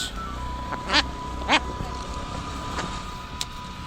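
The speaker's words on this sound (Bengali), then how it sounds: "এখানে কত হাঁস" Ducks quack at a lake beside a forest in Bankura's Joypur, with two loud nearby bursts of calls and fainter scattered quacks over a steady outdoor hiss.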